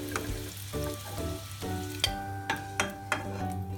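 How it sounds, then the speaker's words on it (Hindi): Potato chunks for Punjabi-style dum aloo fry in oil over a medium flame, a steady close sizzle with a few sharp clinks and scrapes of stirring breaking through. "आलू फ्राई करते समय हमें मीडियम फ्लेम में हमें आलू को फ्राई करना है।"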